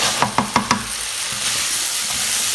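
A chickpea and potato jalfrezi curry sizzles in a pan over high heat. A few quick stirring knocks open it, then a steady, close hiss of frying carries on alone.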